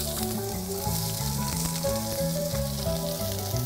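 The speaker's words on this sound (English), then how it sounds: "Now the sizzle pan is hot, so I'm going to put the onions on first." Steady, loud sizzling of onions frying on a hot sizzle pan for steak, a continuous crackling hiss under soft background music, with no talking.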